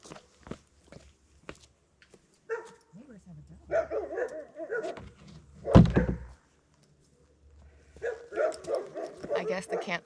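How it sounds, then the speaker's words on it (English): A dog at the neighbouring campsite barks in a few short sharp bursts, fairly close, with a loud thump midway and quiet footsteps and movement around it at a calm waterside camp. "I guess the campsite next door has a dog, and my boat has scared it."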